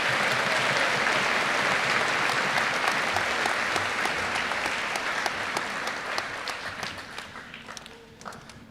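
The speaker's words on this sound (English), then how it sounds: "Let's give them a round of applause for outstanding speeches." A graduation audience at a high school ceremony applauds, a dense, loud wall of clapping that holds steady and then gradually thins and fades toward the end.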